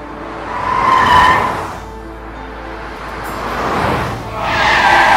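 A car driven fast with tires skidding, its loud screech swelling near the start, easing off, then rising again toward the end with engine noise underneath; no talk.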